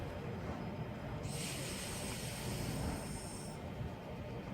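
A Class 375 electric train departs from Gillingham with a steady rumbling hiss, and a brighter high whine swells in the middle before fading back.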